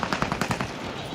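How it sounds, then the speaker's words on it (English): Rapid automatic gunfire from a video game rattles off in a quick burst of about six evenly spaced shots, then cuts off, leaving a faint background. "I'm taking fire."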